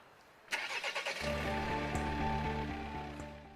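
A Volvo XC60 engine started remotely from a mobile app cranks briefly with a sharp onset, then catches and settles into a steady, fairly close idle hum.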